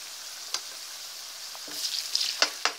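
Oil sizzles and crackles steadily as potatoes deep-fry into french fries, with a few sharp pops and spatters standing out near the end.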